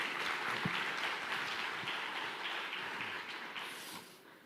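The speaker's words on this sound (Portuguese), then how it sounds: "Forte aplauso para a Alana, que me acompanha." Steady crowd applause, a dense patter of many hands clapping at once, holding for several seconds before fading slightly at the end.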